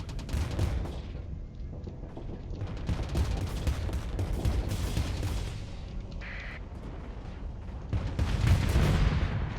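Swarm Launcher motes firing in the space combat game Starsector: a dense, continuous barrage of overlapping loud blasts and crackling bursts, swelling louder near the end, with no talking.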